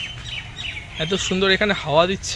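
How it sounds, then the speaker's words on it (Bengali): Birds call and chirp in Eden Garden park in Kolkata, with brief high tweets heard beneath a person talking nearby. "আর এই পাখির ডাক,"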